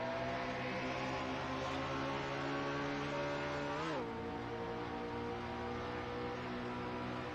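A race car engine in a stock car racing video game, at a Texas track, drones at a high, steady pitch, dips sharply for a moment as it shifts gear, then settles back into a sustained whine.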